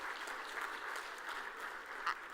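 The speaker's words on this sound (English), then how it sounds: "Another round of applause for that panel" A conference audience at a food summit claps for a panel, a soft, distant and steady patter of applause that holds evenly throughout without cheers.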